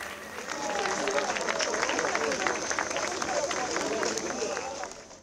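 Sustained applause from a crowd at a hill climb race awards ceremony, steady and fairly loud, with scattered voices and cheering mixed into the clapping.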